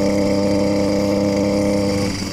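A small motorized bicycle engine revs hard to about 6,000 RPM, holding a loud, steady, buzzy drone close by with a slight drop in pitch near the end.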